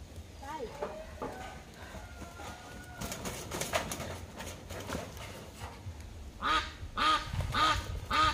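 Domestic ducks about to be prepared for cooking quack at a home, several rough nasal calls close by and growing louder toward the end, mixed with people talking and a few bird coos.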